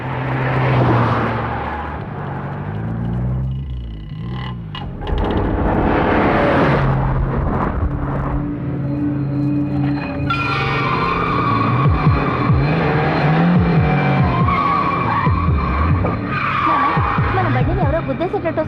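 A car roars closer and closer toward another vehicle, tyres skidding and screeching over a loud, continuous engine drone and dramatic rumble, with voices faintly mixed in.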